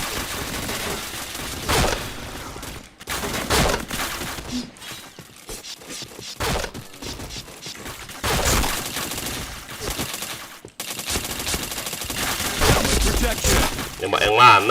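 Loud rapid video-game gunfire landing chained headshots, dense bursts and cracks with shattering effects and mechanical clatter running continuously, with a voice talking faintly in the mix.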